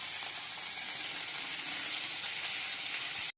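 Bathua greens fry in a pan, giving a steady, close hissing sizzle that holds level for about three seconds before cutting off abruptly, with no talk.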